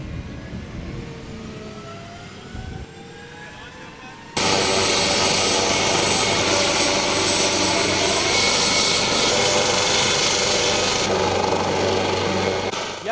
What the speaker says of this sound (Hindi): AW139 जिस हेलीकॉप्टर का हम जिक्र कर रहे थे वो आहिस्ता आहिस्ता आगे बढ़ता जा रहा है